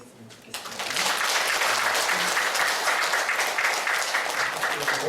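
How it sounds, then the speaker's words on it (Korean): Church congregation applauding for the teachers at a Sunday service, a sustained burst of many hands clapping that starts abruptly and holds steady at moderate loudness. "지금 이 시간 우리 교사된 모든 분들 위해서 한번 박수 했으면 좋겠습니다"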